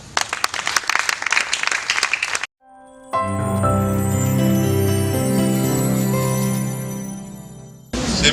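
Loud audience applause fills the first two and a half seconds at a gala evening at the Palm Beach, then cuts to a long sustained musical chord or fanfare that swells and holds before applause returns briefly at the end.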